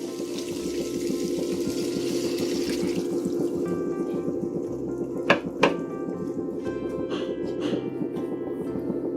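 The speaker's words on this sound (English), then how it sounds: "Now what we'll do is we'll add a cup of water to this." A cup of water pours into a pot of chicken curry masala with a steady gurgling rush over a background hum, followed by a couple of sharp clinks.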